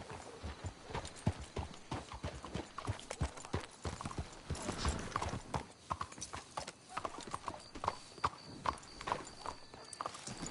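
Horses clip-clop at a steady walking rhythm, hooves sounding close and distinct over a rough outdoor background, with faint voices in the background.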